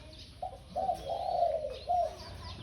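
A young spotted dove, six to seven months old, cooing in a cage, a few soft close coos in a short rising and falling phrase over quiet background hum.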